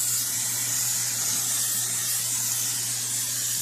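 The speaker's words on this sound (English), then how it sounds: "I'm going to just take this cooking spray and I'm just going to spray it real good inside of there." Cooking spray sprayed into a bowl: a steady, continuous hiss for a few seconds, close and fairly quiet, with no pauses or voices.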